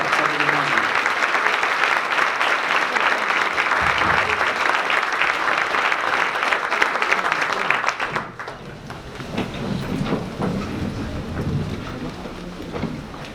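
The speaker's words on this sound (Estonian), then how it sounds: "teeme sellele väärikale, soliidsele koolile ühe väärika aplausi" Standing audience at a Saku Gymnasium 90th anniversary concert gives the school a long round of applause, dense and loud at first, then thinning to scattered clapping.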